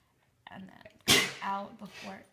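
A single sharp sneeze bursts out mid-sentence while someone is describing how they draw a squiggly map of Europe, with casual talk from the same voice before and after.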